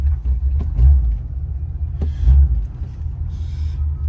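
Engine of a 1979 Oldsmobile Cutlass Supreme idling just after starting, a close, steady low rumble with a couple of louder throbs.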